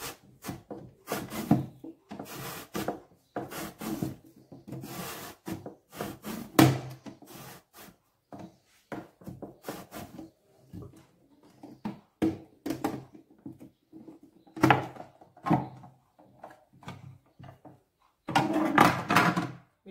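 A knife cuts an eggplant into thin sheets for eggplant rolls, a close, steady run of sharp slicing and tapping strokes on a cutting board.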